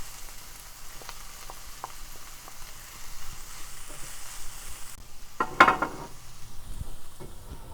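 Green pepper going into a pan of cooking onions sets off a low, steady sizzle with scattered clinks of a utensil, and the frying surges briefly louder partway through before settling back.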